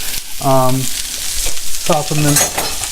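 A large chopped onion goes into a hot pan, giving a loud, steady frying sizzle up close, with two short tonal hums rising above the crackle.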